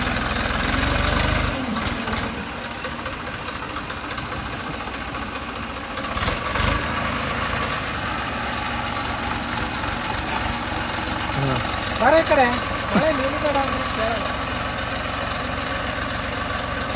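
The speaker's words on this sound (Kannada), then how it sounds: "ಓ ನೋಡಿ ನೋಡಿ ಟ್ರ್ಯಾಕ್ಟರ್ ಹೆಂಗೆ ಹೋಗ್ತಾ ಇದೆ ಟ್ರ್ಯಾಕ್ಟರ್ ಹೋಗೋಕ್ಕೆ ಕಷ್ಟ" A tractor labours along a muddy, rain-damaged dirt road, its engine giving a steady, close rumble that runs the whole time with a few louder surges.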